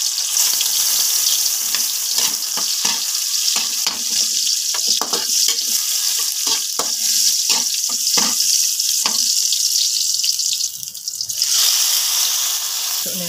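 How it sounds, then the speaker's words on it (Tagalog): Tomato, onion, garlic, okra and string beans sauté in a hot pan, a continuous loud sizzle broken by repeated clattering stirs, with a brief dip near the end as the vegetables are tossed. "Luto na tayo. Gigisa tayo ng gulay."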